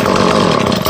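A cold chainsaw roars loudly right after being started, one continuous close engine burst with choppy pulsing across the whole second.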